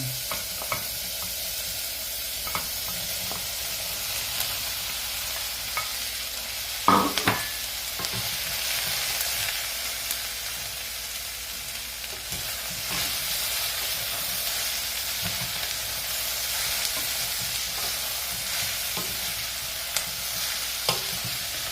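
Wild mushrooms for adobo sizzle steadily in a hot pan, a continuous bright frying hiss with occasional stirring knocks and clatters, close and alone without talk.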